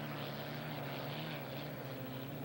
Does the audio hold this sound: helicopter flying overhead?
yes